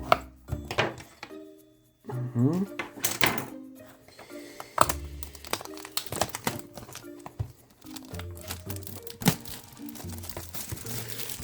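Foil wrapping of a Pokémon White Flare booster bundle pack being torn open and crinkled by hand, close and fairly quiet, with irregular rustles, crackles and small thunks spread across the whole stretch.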